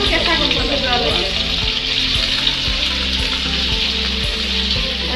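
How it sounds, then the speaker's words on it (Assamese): Paneer frying in a pan for a home-style paneer curry, a loud, steady sizzle running throughout, with a faint low rhythmic pulse beneath. "পনীৰটো দি দিলোঁ বেছিকৈ ভাজিব নিদিওঁ"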